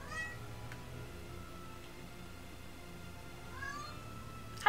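A cat meows in the Tales of Zestiria video game, with one meow at the start and another near the end, both fairly clear over quiet in-game background sound.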